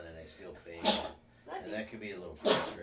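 Someone talks, then two loud, sharp sneezes break through, one near the middle and one near the end, with speech continuing around them.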